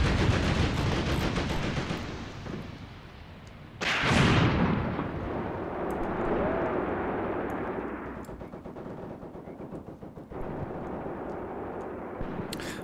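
Tank cannons and gunfire boom and rattle in the video game Tank Warfare: Tunisia 1943, with a sharp loud blast partway through followed by continuing rumbling battle noise.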